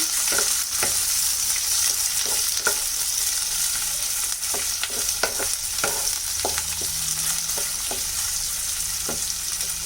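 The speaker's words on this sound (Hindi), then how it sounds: "पियाज को आम ए ब्राउन कलर है पर्यंत भाजवा" Onion fries in a kadai for a mushroom fry, a dense continuous sizzle with regular sharp clicks and scrapes from stirring, close and fairly loud, no voices.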